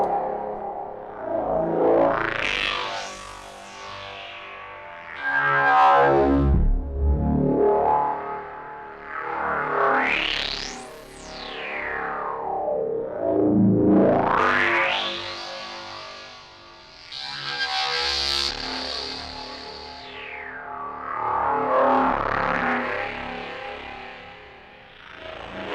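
A synth tone runs through a band pass filter with gritty drive distortion, its filter sweeping up and down in slow repeating waves, buzzy and harsh, loud and continuous without any talking.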